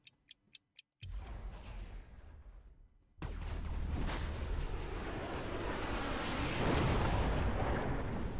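An atom bomb detonating in the strategy game Mechabellum, with a few light ticks leading into a swelling rumble that erupts into a sustained, loud, broad roaring blast lasting several seconds.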